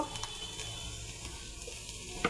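Bay leaf and whole cumin seeds frying in oil as a tempering, giving a soft, even sizzle that stays low and steady, with a faint clink near the end.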